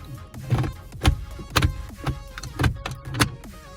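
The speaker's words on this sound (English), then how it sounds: "let me show you how this sounds shifting" A series of about six plasticky clunks and clicks, spaced roughly half a second apart, as the gear shifter of a 2019 Nissan Sentra SV is moved through its positions into park nearby.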